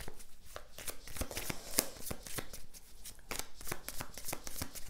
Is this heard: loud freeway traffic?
no